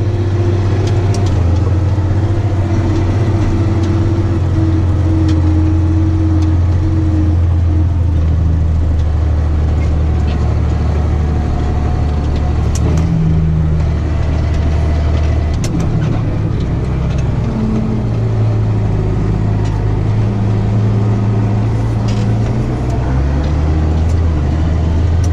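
A farm tractor drives up and down a field spreading fertilizer on beans and grassland, its engine droning steadily and loud throughout with slight shifts in pitch, no talking.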